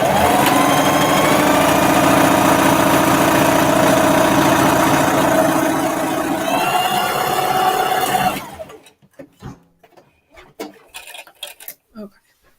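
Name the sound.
sewing machine sewing a drape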